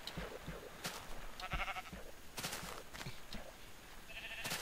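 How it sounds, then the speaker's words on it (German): Sheep bleating in the Minecraft video game, several short bleats spaced irregularly through the clip, fairly close and clear over a busy game background with no talking. "Würfeln mit Schafen."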